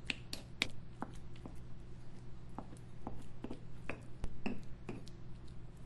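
Avocado is mashed for guacamole, a series of crisp, irregular clicks and taps from a utensil striking a bowl over a low steady background hum, close and without talk.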